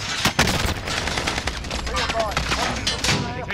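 Rapid bursts of automatic gunfire from a battle royale shooter game crackle loudly and almost continuously, layered with game effects and faint voices.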